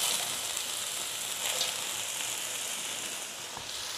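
Chopped onions hit a hot pan while making chicken spring rolls, releasing a steady, moderately quiet sizzle and hiss that fades slightly toward the end, with no voices over it.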